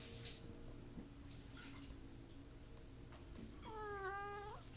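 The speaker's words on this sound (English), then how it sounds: "It's okay, little kitty cat." A house cat gives one drawn-out, wavering meow near the end, heard over steady low hum and faint room noise.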